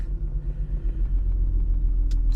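A Jaguar XJ40 with a bad head gasket idles roughly after starting, a loud, close, low engine rumble with an uneven pulse from misfiring cylinders, and a brief faint click near the end.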